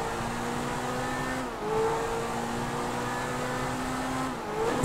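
A Pegassi Zentorno engine revs hard on the Nürburgring GP circuit in GTA 5, a steady loud drone that dips briefly at two gear shifts before climbing again.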